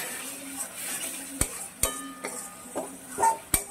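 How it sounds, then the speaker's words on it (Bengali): Spices, onion, garlic, ginger and tomato sautéed in oil for palak paneer, a soft steady sizzle broken by several sharp clinks of a spoon against the pan, close by with no talk. "এবারে এগুলো দিয়ে আমি একটু কষিয়ে নেব।"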